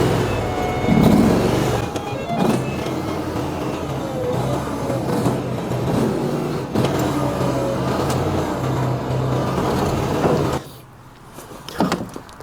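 A powered compost spreader farm vehicle runs with a steady, loud engine drone and mechanical clunks as the clutch is worked and gears are shifted, then the engine noise drops off sharply near the end.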